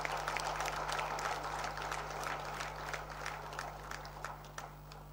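Applause at a patient safety congress in a large hall, a steady spread of clapping over a constant low electrical hum, gradually tapering toward the end.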